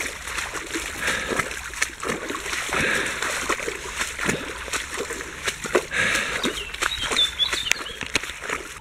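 Splashing footsteps wade through ankle-deep water on a flooded trail, a steady run of close wet sloshes and splatters with no talking.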